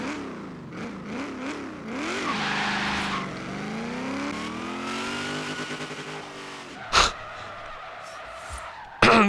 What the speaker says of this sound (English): if I just skip first gear and just start in second gear, it still roasts the tires